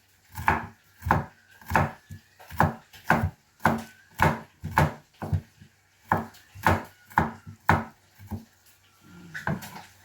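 A knife chops onion on a board in a steady rhythm of about a dozen crisp, close knocks, each clearly separated, with no talking.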